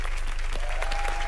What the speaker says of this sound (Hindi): तालियां मीका भाई के लिए।